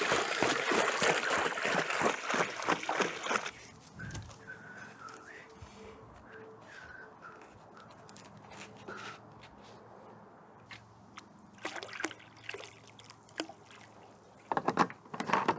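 Water pours into a stainless steel fermenter during passivation of home brewing equipment: a loud, steady rushing fill for the first few seconds, then a quieter stretch with faint trickles and small knocks.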